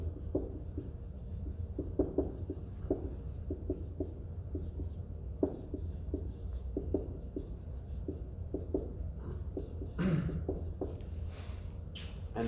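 Writing out a redox chemical equation by hand, with soft scratchy pen or marker strokes in an irregular rhythm over a steady low background hum.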